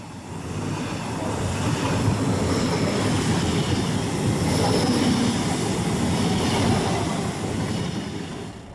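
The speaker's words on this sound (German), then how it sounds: "Hier fährt ein dreiteiliger KISS der luxemburgischen CFL." A three-car CFL KISS double-decker electric train from Luxembourg passes close by with a loud, steady rushing roar of wheels and air that swells and then eases slightly, with no speech.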